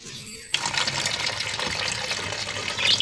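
Water poured for pet budgies, a steady splashing gush starting abruptly after a short quiet moment and running continuously, close and fairly loud.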